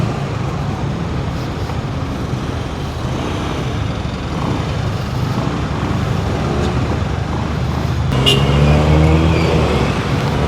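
Steady Saturday road traffic rolls past, with car and engine noise close by and a heavier vehicle surging louder near the end, heard from a rider's position.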